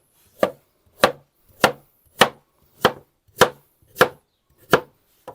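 Carrots chopped coarsely with a knife on a board, eight crisp evenly spaced chops at a steady rhythm about 0.6 seconds apart, close and clear with no talking.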